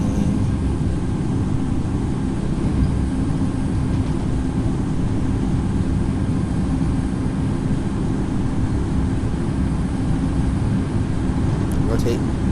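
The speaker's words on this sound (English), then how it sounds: "Take off power set, toga." Airliner engines in the Infinite Flight simulator hold a steady, loud broadband roar at takeoff thrust, a constant low rumble with a faint tonal hum running unbroken throughout.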